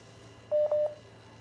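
Two short electronic telephone beeps sound in quick succession during a call, clear and isolated against a faint, steady background hum.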